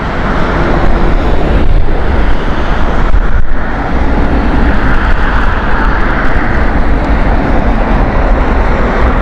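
A Qantas Boeing 787 takes off at Heathrow, its jet engines a loud, steady roar that fills the whole span, with wind buffeting the microphone and no talk.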